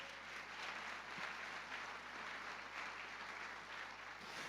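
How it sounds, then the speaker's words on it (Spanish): Congregation applauding in praise during a Spanish-language church worship gathering; a faint, distant wash of many hands clapping continuously over a low background hum. "Levanta un fuerte aplauso de alabanza para él."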